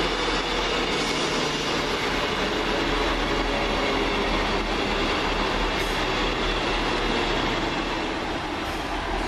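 A Northern Rail class 158 diesel unit running from York to Blackpool North passes at Cross Gates with a loud, steady roar and rumble, faint wheel squeal on top, continuous throughout.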